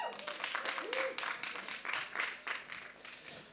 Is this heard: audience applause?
yes